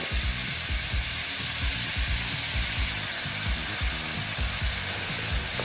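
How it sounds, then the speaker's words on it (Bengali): Ash gourd frying in a pan with a splash of water for a vegetarian Bengali ghonto, a loud, unbroken hiss over a steady rhythm of low stirring thumps. "জল দিয়ে আমি ভেজে নিচ্ছি সুন্দর মিক্স হয়ে যাবে তাহলে"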